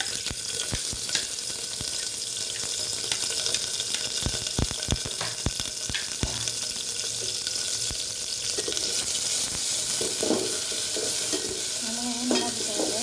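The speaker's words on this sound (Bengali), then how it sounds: "তারপরে দিয়ে দেবো আমি রসুন আর পেঁয়াজ কুচি।" Garlic and chopped onion frying in a little oil for a Sylheti sour tenga curry, a steady close sizzle broken by occasional sharp knocks and scrapes of stirring.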